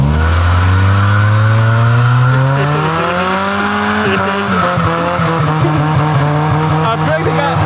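Loud car engines rev and strain together while tires squeal and skid, close and continuous.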